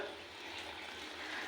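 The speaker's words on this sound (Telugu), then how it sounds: "గట్టిగా పడకుండా ఉండాలంటే కొన్ని పాలు పోస్తాను" Milk being poured into a pan of semiya sweet with ghee-fried sugar, cardamom and dry fruits makes a soft, steady liquid rush for a brief moment.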